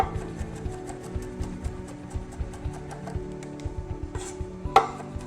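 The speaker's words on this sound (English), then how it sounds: "peel and smash a quick clove of garlic here. And then mince that up." Knife mincing a peeled, smashed garlic clove on a cutting board, rapid rhythmic chopping taps close by with a final sharper knock, no talk.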